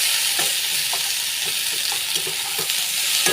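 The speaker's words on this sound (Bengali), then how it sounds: "ঢ্যাঁড়সটা বেশ ভালো মতো ভাজা হয়ে গেছে, আমি এখন নুন হলুদ দিয়ে দেবো" Okra fries in a pan with a steady, close sizzle, and light scrapes from stirring come through at irregular intervals with no voices over it.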